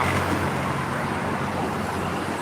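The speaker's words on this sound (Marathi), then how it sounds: "एन एच फोर हायवेचं ट्रॅफिक बघा अनिल दादा" Steady traffic on the NH4 highway, a continuous broadband rush of passing vehicles and tyre noise at moderate distance, even in level with no pauses.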